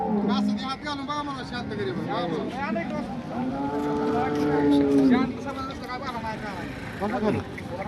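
Cows moo loudly and nearby at a cattle market, with several long drawn-out calls while people talk in the background.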